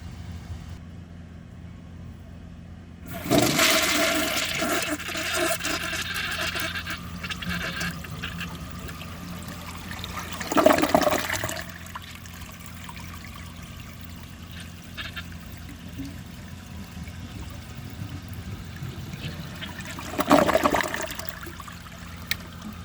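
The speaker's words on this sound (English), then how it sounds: "that flush was just terrible" A 2018 Delta Turner toilet, its tank filled to the top, flushes with a sudden rush of water that settles into a long, steady trickle and tank refill, with two brief surges of gurgling water later on.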